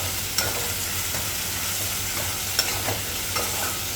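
Onions sautéing in a pan give off a steady, loud sizzle, with an occasional soft scrape or tap of the spatula stirring them, and no one talking.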